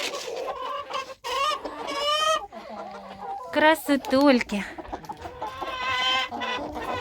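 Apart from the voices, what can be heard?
silkie chickens clucking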